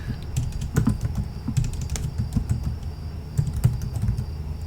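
A computer mouse clicks repeatedly at close range while selecting text in Microsoft Word, with a quick, uneven run of sharp little taps against a faint background hum.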